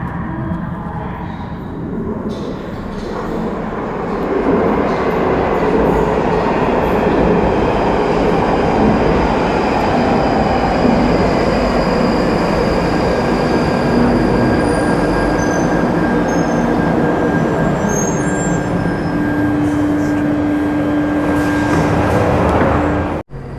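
A London Underground tube train pulls into a station on the southern section between Balham and Morden, its loud steady rumble carrying a sustained high wheel squeal that builds near the end as it slows to a stop.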